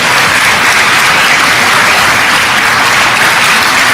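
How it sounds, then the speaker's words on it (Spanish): A church congregation applauds in honor of Jesus Christ during a sermon, loud, dense and steady clapping throughout with no voices over it. "Denle un aplauso al Señor Jesucristo"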